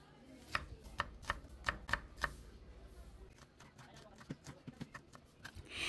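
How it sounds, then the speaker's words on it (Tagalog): A knife chops garlic and a medium onion into small pieces, a few sharp, evenly spaced taps followed by quieter, irregular cuts, faint and close, with soft voice traces in the background. "So hiwain lang natin ng maliliit ang 3 garlic at isang 1 medium size ng onion."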